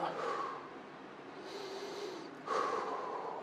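Two strong, breathy exhales during a breathing exercise in a workout session, each a loud rushing breath about a second apart from a quieter airy pause, close to the microphone.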